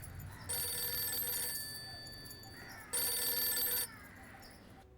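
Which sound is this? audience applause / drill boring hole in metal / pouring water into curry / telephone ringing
telephone ringing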